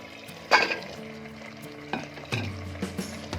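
Potatoes tipped into hot oil in a mutton handi for aloo gosht, a sudden burst of sizzling followed by a few spoon knocks and scrapes against the pot, close and without speech.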